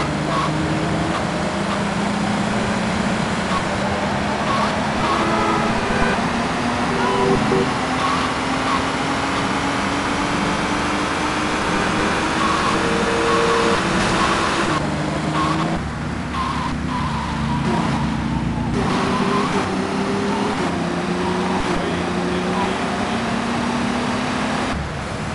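In Grand Theft Auto Vice City, a car drives around the block, its steady engine drone rising and falling in pitch with gear and speed changes, loud and continuous throughout with brief tyre scrubs.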